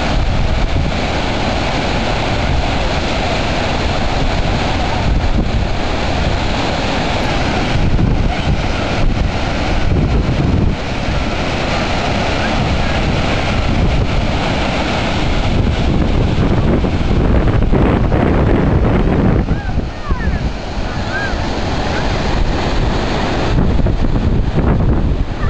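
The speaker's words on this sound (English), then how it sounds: "and then the main falls here" Main falls of a waterfall on the Snake River in its canyon, a dense, steady roar of rushing water that stays loud and unbroken throughout, with wind buffeting the microphone.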